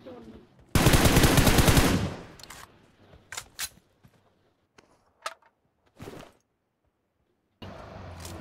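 Gunfire in a PUBG match: a loud sustained automatic burst lasting over a second, followed by scattered single sharp shots and short bursts at varying distances, with a final rapid burst at the end.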